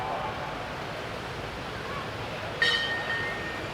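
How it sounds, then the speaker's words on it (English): Water rushes steadily at the top of a waterfall at a theme park, a broad even wash of flow with a brief faint tone near the end. "Oh, this is the top of the waterfall."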